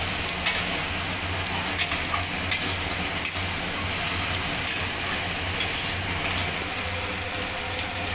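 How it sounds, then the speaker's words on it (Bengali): Gobindobhog rice is stirred in a hot pan under a loud, dense, steady frying hiss, with scattered scraping ticks from the utensil as the grains are turned. "এবার গোবিন্দভোগ চালটা ভালো করে আমি নাড়িয়ে নেব।"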